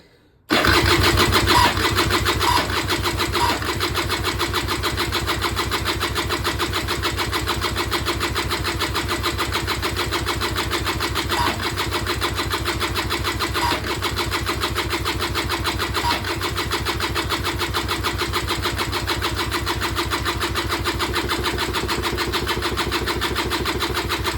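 A Peugeot Speedfight 2 100cc scooter with a flooding carburettor is cranked over and over for more than twenty seconds. The starter whirrs rapidly and evenly while the engine never catches, heard close up and alone.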